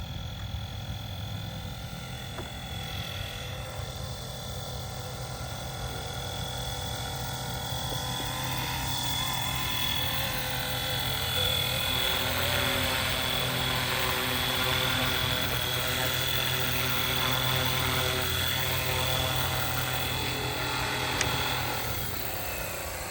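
A FlyWing Bell 206 RC helicopter fitted with a three-bladed rotor head hovers and flies nearby outdoors, its steady whirring rotor and high motor whine continuous and fairly loud throughout.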